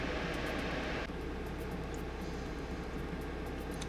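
Fans of an MSI GTX 1070 Ti Duke graphics card running on the stock fan curve in a Ryzen 1700 system, giving a steady, broad, close whooshing hum that stays constant throughout.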